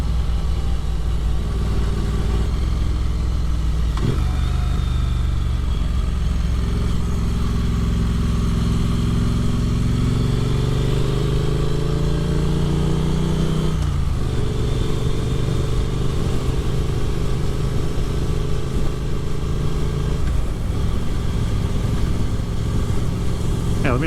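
A Triumph Street Twin motorcycle cruises through a neighborhood in the evening, its engine loud and close, with the pitch climbing through gears, dropping at shifts, and rising again over a steady hum of wind.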